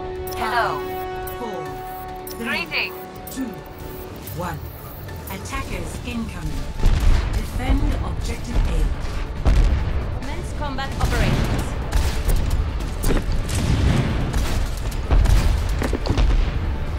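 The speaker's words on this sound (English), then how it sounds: "An area where I can launch a whole bunch of rockets." Pharah's rockets launching and exploding in an Overwatch multiplayer match, a run of loud booming blasts from about the middle onward over game music and tones, with talk over it.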